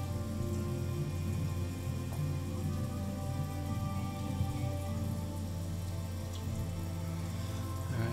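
Steady rain falls in The Walking Dead: Michonne video game, a constant hiss over a low droning hum that runs the whole time without change.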